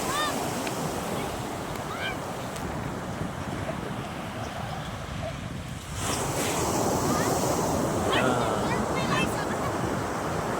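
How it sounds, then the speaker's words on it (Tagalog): Ocean surf rolls onto a beach under strong, gusting wind that roars across the microphone throughout, steady and loud, swelling further midway; children play nearby and someone talks over it at times. "Tabing dagat tayo, lakas ng hangin"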